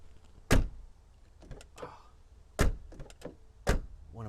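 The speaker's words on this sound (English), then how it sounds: "Did you hear the way the door sounds?" Ford Crown Victoria doors shut with three solid, heavy thunks spaced a second or two apart, close and loud, with a few softer clicks and handling noises between them.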